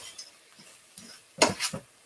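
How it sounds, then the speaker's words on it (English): Utensil stirring whole wheat noodles as they toast in oil in a pan, with a few soft scrapes and clinks followed by louder scraping strokes against the pan. "Just stir our noodles up."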